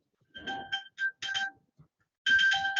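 A phone left behind in a courtroom rings with a repeating electronic ringtone, bright chiming bursts in several short phrases with brief gaps, fairly close and clear, with no talk over it.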